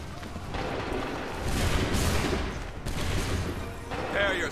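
Soldiers fire a musket volley during the Lexington and Concord battle in Assassin's Creed III, a dense crackling roar of overlapping shots that swells and recedes in waves, with shouting voices mixed in.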